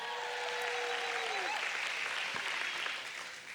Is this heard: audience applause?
yes